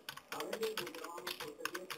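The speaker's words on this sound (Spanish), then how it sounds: "Vamos a presionar la tecla inicio en nuestro teclado y acá en el buscador ok vamos a escribir administrador de dispositivos" Keys clattering on a computer keyboard as a search is typed into Windows, a quick uneven burst of close clicks with no voice over them.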